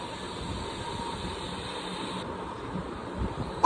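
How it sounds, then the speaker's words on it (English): New York City F line subway train running on an overground stretch at night, a steady rumbling roll with a high whine, constant and moderately loud throughout, swelling slightly near the end. "That's the F train."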